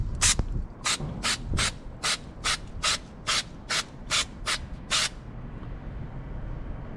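While BMW M4 crank bolts are cleaned before Loctite goes on, about a dozen short, sharp hissing bursts sound close by at an even rhythm, then stop, leaving a low background rumble.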